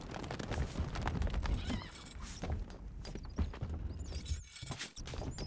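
Rapid clip-clopping hooves and a horse's whinny ring out over a busy, layered Stronghold Crusader game soundscape with scattered thuds.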